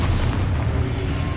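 Expulso spell explosion in the Hogwarts Legacy video game, a loud low boom with a rumbling burst that fills the short moment, heard alone without talk.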